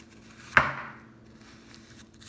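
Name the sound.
knife chopping onion into circles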